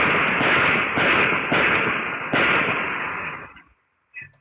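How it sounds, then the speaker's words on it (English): Rapid gunfire into a stolen car at night in North Seattle, picked up by a security camera: a dense, steady volley of sharp cracks lasting several seconds, then silence and one last thump. "Police say what you're hearing is a stolen car being shot full of bullets."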